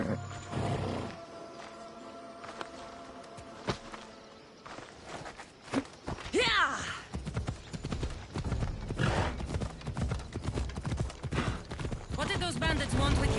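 Horse hooves clip-clop at a steady gallop in Assassin's Creed Odyssey, close and continuous, with occasional whinnies and a voice speaking over the hoofbeats.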